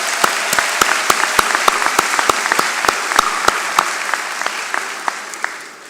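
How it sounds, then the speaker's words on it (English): Audience applause for faculty at a summer university commencement ceremony, a sparse spread of distinct claps from a modest crowd, steady and then tapering off toward the end. "Let's give a big round of applause to our FAU faculty."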